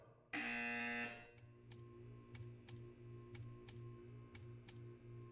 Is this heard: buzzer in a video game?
yes